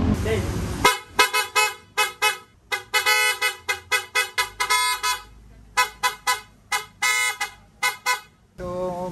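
A Piaa dual car horn wired through a relay and socket relay, blasting loud honks in a rapid irregular series of short and longer toots, with a voice speaking briefly at the start and end.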